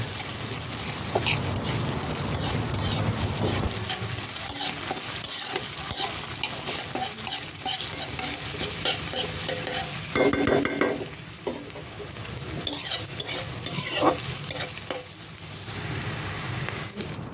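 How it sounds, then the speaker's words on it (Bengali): Onions and spices frying in oil in a pan for a flattened-rice chira recipe, a loud continuous sizzle with rhythmic stirring and scraping strokes throughout, close up. "পেঁয়াজগুলো সামান্য পরিমাণ লাল হওয়া পর্যন্ত ভাজতে হবে"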